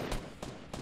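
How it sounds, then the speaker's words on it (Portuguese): Gunfire in the Fortnite video game: three quick, loud bursts of shots spaced evenly apart, with no talk during them. "você tá ouvindo o tiro, né?"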